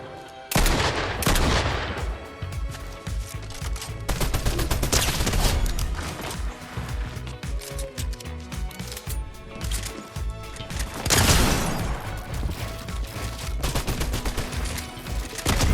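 Pistol gunfire in Fortnite rings out in rapid, loud volleys of shots, with dense bursts across most of the stretch and a heavy flurry near the end, and no talk.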